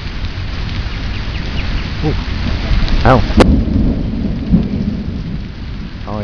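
Heavy rain during an Oklahoma tornado storm, a dense, constant hiss with a low rumble of thunder, interrupted by a couple of short spoken exclamations nearby.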